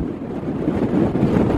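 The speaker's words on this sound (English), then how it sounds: "This is gale force winds." Gale-force wind on a mountain in Snowdonia's Carneddau buffets the microphone in a loud, continuous low roar with slight gusting swells, and no voices.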